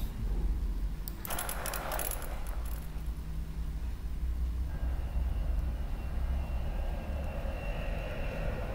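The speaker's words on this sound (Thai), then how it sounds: "อันนี้น่าจะเป็นจักรยานครับ" A bicycle gives a short, bright metallic ratcheting clatter early on, followed by a steady low background rumble.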